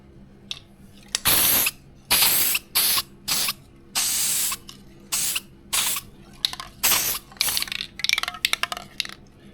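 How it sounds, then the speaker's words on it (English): Auto primer putty sprays from an aerosol can in a run of short hissing bursts, close and loud, with brief quiet gaps and some faster taps near the end. "Find this auto spray, the primer putty in one's really good for this sort of stuff."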